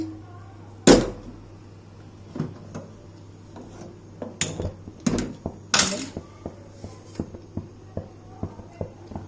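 Cooked snake gourd kootu with chana dal is stirred in a pressure cooker pot, heard as irregular metallic clanks and scrapes of a ladle against the pot, some sharp and close, over a low hum.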